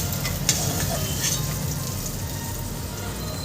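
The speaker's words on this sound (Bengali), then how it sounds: "সামান্য একটু হলুদ আর সামান্য লবণ দিয়ে ভেজে নেব দেখো ফ্রেন্ড মটর মটরশুঁটিটাও সুন্দর করে ভাজা হয়ে গেছে" Green peas fry in a wok with a little turmeric and salt, giving a steady close sizzle with a brief clink near the start, faint background movement and no clear talk.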